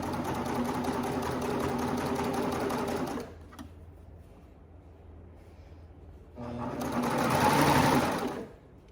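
Sewing machine running close by as it stitches a leggings seam, whirring steadily for about three seconds, pausing, then speeding up again for a second loud burst.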